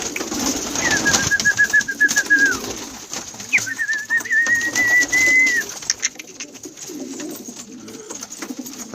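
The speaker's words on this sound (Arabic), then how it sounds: "حمام كلها" Pigeons coo nearby in two long, drawn-out calls, with steady background noise and no talk.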